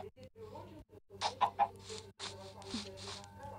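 Chickens in the video game Minecraft cluck in short, soft bursts over a quiet background, several brief clucks in quick succession, fairly faint.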